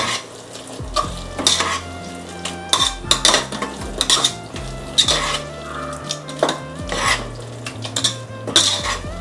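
Chicken curry spices get stirred in a pot over a high flame, with a metal spoon clanking and scraping repeatedly against the pot under a light sizzle. The sound is close and fairly loud, and no one talks.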